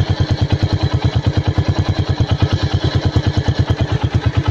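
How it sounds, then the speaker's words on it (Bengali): A 2022 TVS Metro 100cc motorcycle engine idles on its own, a steady, even putt-putt of rapid regular beats held throughout at close range without any talking. "এটা ফ্রি অ্যাক্সেলেটারের ইঞ্জিনের সাউন্ড"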